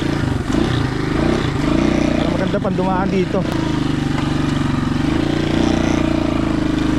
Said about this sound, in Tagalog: Ayos lang yung motor.